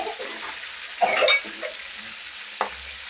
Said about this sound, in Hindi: ये चारों तरफ से ये देखो कितने अच्छे फ्राई हो रहे हैं।